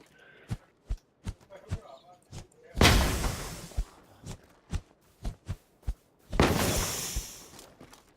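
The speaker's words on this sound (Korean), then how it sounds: "바퀴 터진 소리." Two loud, sustained bursts of broadband hiss mark a vehicle tire bursting in PUBG, each a sharp blast trailing off over about a second, set against a steady series of dull thumps and footsteps.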